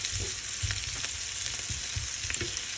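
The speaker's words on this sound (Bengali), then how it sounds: "পেঁয়াজগুলোকে 1 মিনিটের মতো নেড়ে এর মধ্যে ফালি করা 3টি কাঁচামরিচ দিয়ে আবারও নেড়ে দেব।" Chopped onions and sliced green chillies stir-fry in a pan, a dense continuous sizzle with soft repeated scraping strokes of a spatula, close and steady, no voices.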